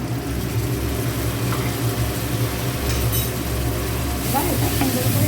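Fish mixture for lote fish jhura being stirred and fried in a pan, a steady dense sizzle with faint scraping from stirring, continuous and close throughout.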